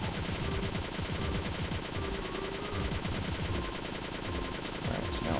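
Rapid, continuous machine gun fire from the Cave Story+ video game, a dense rattling burst that runs loud and steady from start to finish with no talking over it.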